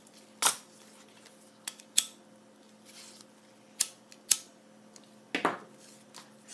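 Scissors snip fabric corners in several quick, separate cuts, crisp and close, with short quiet gaps between them and no talking.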